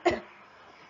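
A single short, sharp cough bursts out close to the listener and fades quickly into quiet room tone.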